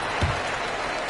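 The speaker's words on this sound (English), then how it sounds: "They got a big lift from their crowd tonight, giving them the energy they needed." Arena crowd noise from the NBA 2K22 basketball game, a dense, steady roar of cheering and applause with a brief louder swell near the start, filling the whole short moment without speech.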